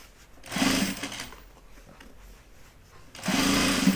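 A sewing machine stitches the binding on a Zip Double bag in two short bursts, each under a second long, with a quieter gap of handling noise between them.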